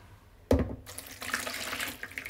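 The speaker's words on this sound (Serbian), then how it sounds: "Usitnjenom kvascu dodajte šećer, ovako, i dodat ćete vodu." Water is poured from a tap or jug onto crumbled yeast and sugar in a bowl for pizza dough, a sudden close splash followed by a soft, steady trickle for about two seconds.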